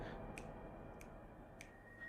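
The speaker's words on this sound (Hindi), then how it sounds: "ऐसे किसी की चुटकी बजाने की" Three crisp finger snaps spaced evenly about half a second apart ring out over a quiet, steady background hum, with no talking, set as a sound effect in a ghost story about a haunted house in Delhi.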